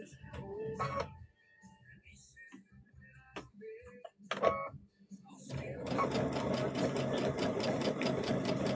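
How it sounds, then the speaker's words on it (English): A sewing machine runs in a fast, steady mechanical rattle while back stitching the end of a seam on a fabric trick-or-treat bag. The stitching follows a few scattered clicks and brief talk. "And I'm back stitching at the end"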